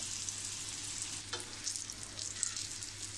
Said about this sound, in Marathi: आता आपण ह्या दुसऱ्या बाजूने पण व्यवस्थितपणे भाजून घेऊया.